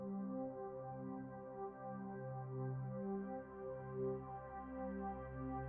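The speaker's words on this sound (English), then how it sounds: "What you're hearing is the overtone series, a mathematical sequence that occurs naturally when any note is played." The overtone series of a single played note sounds as a soft, sustained tone with many stacked harmonics that pulse gently in and out, faint and continuous, with no talk.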